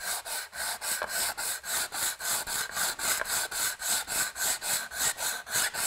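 An anodized aluminum part is sanded by hand with 80-grit sandpaper in quick, even back-and-forth strokes, roughly twenty close rasping passes in a steady rhythm with no speech.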